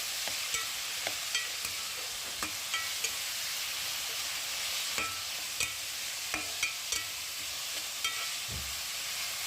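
Onions fry in a pan toward golden brown, making a steady bright sizzle punctuated by regular light clicks of a stirring spoon against the pan, with no voices.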